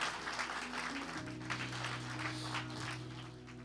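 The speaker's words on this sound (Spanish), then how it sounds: "Fuerte ese aplauso a Jesucristo." A church congregation applauds during a sermon, a soft, moderately distant wash of clapping that fades a little toward the end, with a sustained organ or keyboard tone underneath.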